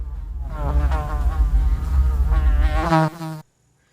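A housefly buzzing in a film scene, a loud close drone that wavers in pitch as it circles, then breaks off abruptly into silence.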